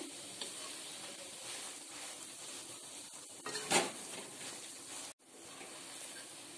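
Mawa (khoya) roasting in a hot kadhai, a steady soft sizzle with spatula stirring and scraping, one louder scrape near the middle, close and fairly quiet.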